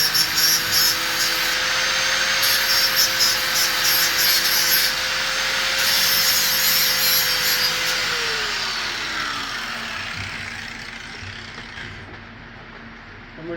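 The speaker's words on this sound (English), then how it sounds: "I'm just cleaning up where I'm going to weld." Metal is cleaned up with a power tool ahead of welding during a snowmobile sled modification, producing a loud continuous grinding whir with a steady pitch that drops as the tool spins down near the end.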